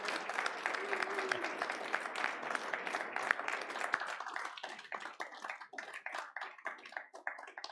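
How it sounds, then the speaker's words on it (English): A church congregation at a traditional worship service applauds the children as they leave, with steady clapping from a crowd that thins into scattered claps toward the end. "Let's give them a round of applause."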